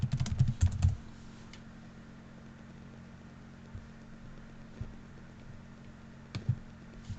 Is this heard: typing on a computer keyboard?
yes